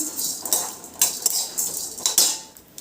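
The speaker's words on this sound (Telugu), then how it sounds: "ఇది కూడా ఇప్పుడు రోస్ట్ చేసుకుందాం" Chana dal roasting in a pan on the stove, with a spoon scraping and clinking against the metal in irregular close taps over a steady sizzling hiss.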